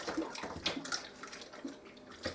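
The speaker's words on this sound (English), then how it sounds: "but I put them right under the water." A tap runs as canning jars are rinsed clean under the stream, a fairly soft splashing and gurgling water flow with uneven bursts as the jars move beneath it, with no talking.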